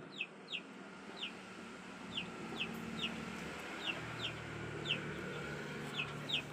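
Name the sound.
chickens clucking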